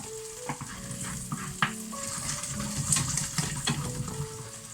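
Sliced potatoes sizzle and spatter in hot garlic butter in a pan, with steady frying hiss and occasional scraping clinks as they are stirred and coated.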